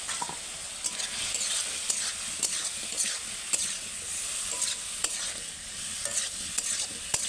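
Potatoes and vegetable stems sautéing in spiced oil for a fish curry, a steady soft sizzle with frequent scraping clicks of a stirring spoon against the pan, close and alone.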